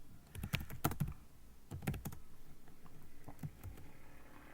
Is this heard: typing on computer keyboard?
yes